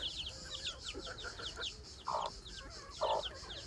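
Chicks and hens pecking at banana pieces: quick high peeps chirp steadily, broken by two short, louder clucks from an adult bird near the end.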